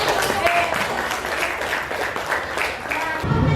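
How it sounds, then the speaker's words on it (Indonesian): Classroom applause after a group presentation: a burst of many hands clapping, moderately loud and close, with voices mixed in and the clapping cutting off abruptly near the end. "Tepuk tangan."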